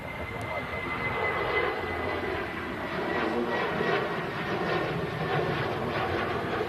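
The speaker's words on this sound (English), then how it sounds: "Did your little KLM 737 going out, 700 series, departing." KLM Boeing 737-700 jet departing at an airport, a steady broad engine roar heard at a distance, continuous throughout.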